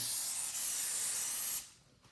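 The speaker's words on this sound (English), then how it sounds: "I'll just give it a quick spray" A steady hissing spray from a nozzle onto a ham before smoking lasts about a second and a half, close and fairly loud, then cuts off.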